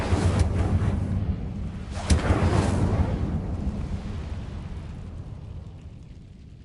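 A fiery burst of the Incendio fire spell from the video game Hogwarts Legacy, a roaring whoosh with a sharper pop partway through, fading away slowly over a steady rumbling background.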